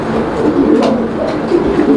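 Pigeons offered for sale at a market coo steadily and close by, a soft, continuous murmur of several birds with no voices over it.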